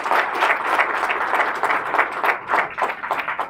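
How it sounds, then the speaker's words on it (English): Sustained applause from the audience at a state-level intellectual battle competition as a team qualifying for the final is announced, dense and even clapping that stays strong and close throughout. "Give a round of applause."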